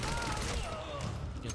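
Gunfire from the video game Quantum Break, a steady burst of shots filling the clip, loud and close, with game voices and effects layered over it.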